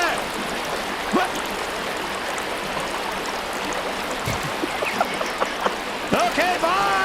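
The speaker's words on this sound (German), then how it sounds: "Ich muss jetzt von dem Wasser weg, das ist so laut." Loud, steady rushing of flowing water in the survival video game Sons of the Forest, a close, constant wash that runs the whole time with someone talking over it.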